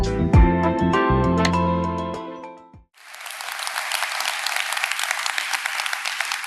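Music ends abruptly, then a church audience bursts into steady, full applause welcoming speaker Tony Jennings, with dense clapping that continues through the rest of the clip.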